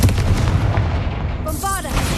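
A Confringo fire spell bursts in Hogwarts Legacy, a loud, dense blast with a rumbling low end lasting about a second and a half, then giving way to a brighter crackling, whooshing tail with no speech over it.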